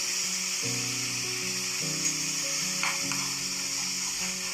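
Ground cumin, coriander, turmeric and salt frying in a pan for a katla fish curry give a steady, soft sizzle with occasional stirring scrapes, under a faint background hum with tonal notes, and no talking.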